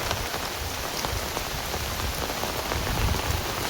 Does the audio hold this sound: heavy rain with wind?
yes